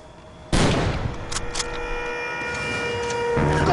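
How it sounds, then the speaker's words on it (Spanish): Gunfire at a van in a prison-escape scene: a sharp burst of shots strikes suddenly and rings out, then decays into a lingering ringing tone with further impacts, loud and close with no talk. "¡Nos está disparando!"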